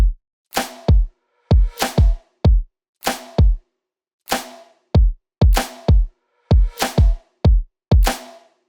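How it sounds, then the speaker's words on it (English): A Christmas pop song's hook drum loop plays alone, with punchy kicks and sharp, bright snares swapped in, hitting in a tight repeating pattern of clean, loud, dry hits separated by short gaps. "For the hook drums, I replaced the kick sound that I used in the break as well as the snares"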